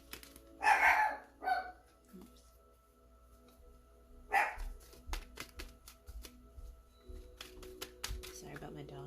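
A dog barks in a couple of loud, sharp bursts near the start and one more a few seconds later, against a quiet indoor background with a person talking.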